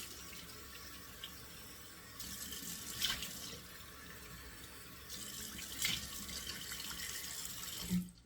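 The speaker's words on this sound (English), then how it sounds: "let me rinse the face off with 2 splashes of cold water." A bathroom sink tap runs steadily with cold water while a face is rinsed, two distinct splashes rising above the constant close flow.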